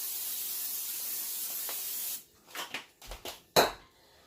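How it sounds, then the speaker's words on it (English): Cooking oil spray hisses steadily onto a pan on low heat for about two seconds, followed by a few soft clicks and taps nearby. "I'm going to spray it with my spray."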